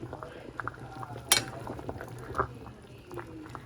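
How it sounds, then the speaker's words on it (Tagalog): Sinigang na pampano, a sour pompano soup, cooking in a pot, with gentle liquid bubbling, faint sloshing and a couple of light clinks of a utensil against the pot, fairly quiet and close. "Niluluto kong sinigang na pampano."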